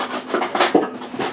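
Metal cereal spoons clink and scrape against each other while shaping firm food, a handful of light, close taps and rubs in quick irregular succession.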